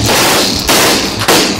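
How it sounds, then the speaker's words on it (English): Stun grenades (flashbangs) of the kind used by special forces to clear rooms go off in two loud, sharp blasts, each followed by a broad roaring burst, with no talk over them. "Stun grenades, flashbangs, lots of various names, but they all do the same thing."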